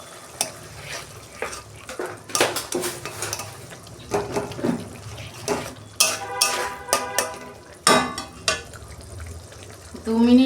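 Spice paste for a curd katla curry fries in oil in a pan with sugar added, stirred with repeated clanks and scrapes of a spatula over a low sizzle, with scattered faint voice sounds.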